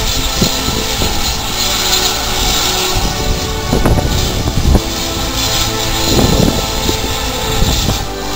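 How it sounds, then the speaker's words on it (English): Strong wind buffets the microphone on a sunny day on the coast at Sheringham, a loud constant rumble with gusty swells throughout. "It's very windy, you know."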